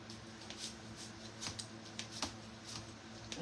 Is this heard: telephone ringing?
no